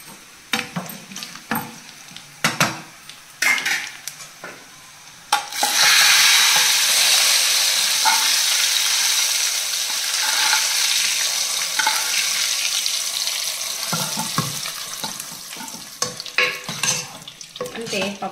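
Tempering poured into dal made with thummikura for a Ganesh Chaturthi meal bursts into a loud, sustained sizzle after a few sharp stirring clinks, then slowly fades as spoon scrapes return near the end.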